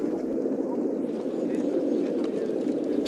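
Dense, continuous cooing of a large flock of racing pigeons awaiting release, a steady low murmur with faint voices mixed in.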